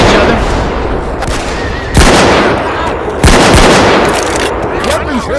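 Assault rifle fire in a co-op zombie shooter game: a loud background of shooting broken by two heavy, sharp blasts about a second apart.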